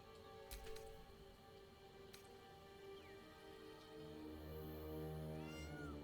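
Cat meowing in the video game Baldur's Gate 3, a few faint, short mews with a longer drawn-out cry near the end, set over a quiet, steady ambient background.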